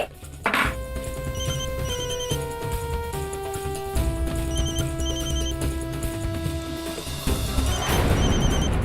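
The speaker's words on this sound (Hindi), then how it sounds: "आप तो फोन ही नहीं उठा रहे, कब से बजे जा रहा है?" A telephone ringing in a household scene from an Indian TV drama, with repeated electronic ringtone melody notes over background music and a crash-like hit near the end, no talk.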